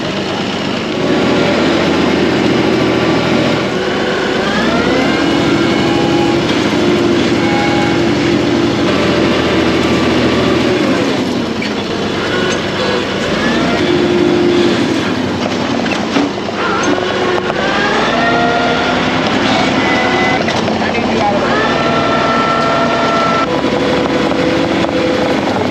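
A powerful tractor engine labors while pulling a tree out of the ground on stable land, a loud, sustained drone whose pitch rises and falls repeatedly as the load changes.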